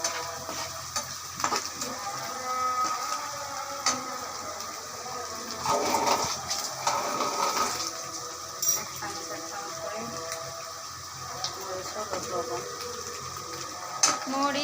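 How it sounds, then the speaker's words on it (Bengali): Whole spices including cinnamon frying in oil, a continuous sizzle with intermittent clattering stirs and scrapes, close and moderately loud, no speech. "তো এটাকেও খুব ভালো করে ভাজা হচ্ছে।"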